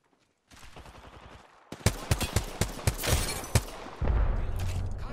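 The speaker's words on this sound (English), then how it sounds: "They spotted me. I'm taking shots." Gunfire in the video game Apex Legends, apparently with a G7 Scout rifle, as a player comes under fire: a burst of sharp, loud shots cracks over a steady rumble of background game noise, with no talk.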